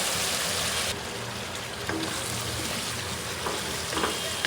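Potato pieces go into a spice paste of ground ginger and other masalas frying in hot oil, setting off a loud, steady sizzle that hisses broadband and close throughout, with faint stirring scrapes and no talk.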